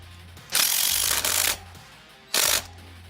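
Ratchet driving sprocket bolts into the rear hub of a Beta 300 RR motorcycle: two bursts of close, bright, rapid clicking, the first lasting about a second, the second shorter, with a quiet pause between.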